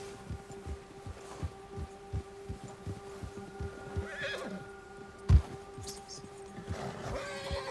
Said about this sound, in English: The bear has spooked your horse.